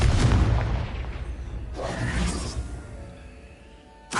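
A Confringo fire spell bursts in the Hogwarts Legacy video game: a loud booming blast opens, a second whooshing burst follows near the middle, then a sharp pop lands at the very end.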